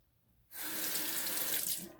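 Tap water gushes into a sink after a half-second of quiet and runs in a steady, close hiss for rinsing off before shaving, easing slightly near the end.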